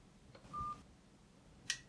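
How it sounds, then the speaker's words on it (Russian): A phone hangs up during a Nintendo 64 modem cartridge call, with a short dialing-style beep tone followed by a brief sharp click, faint and isolated against quiet line hiss. "чтобы было слышно, как мой телефон кладет трубку"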